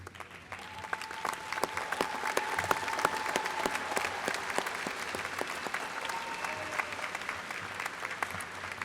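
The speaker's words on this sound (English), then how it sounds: "join me in applauding them and thanking them" A commencement audience applauds the faculty, steady sustained clapping from a large crowd heard at moderate distance for the full stretch, with no break.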